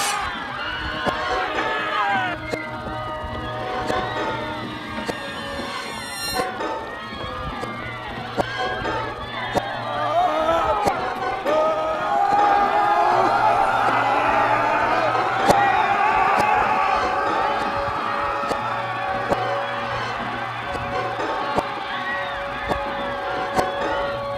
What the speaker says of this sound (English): Pitchforks armed crowd.